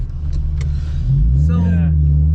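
Drift car engine heard from the back seat, a loud low rumble that climbs in pitch as it revs up near the end, with people talking over it inside the car.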